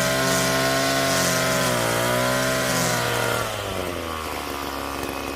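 A power tool grinds surface rust off the steel frame of a 1960s Soviet motorcycle under restoration, a loud, steady buzzing whine that dips in pitch partway through as the tool loads against the metal, with no voices.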